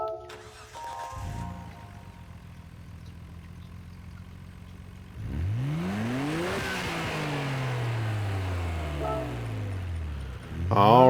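A 1997 Nissan R33 GT-R V-spec in Gran Turismo 7 cranks and fires up, its engine settling into a steady idle before a sharp rev rises and falls, then idling again with a brief blip near the end.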